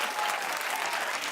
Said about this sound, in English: Clap if you're not.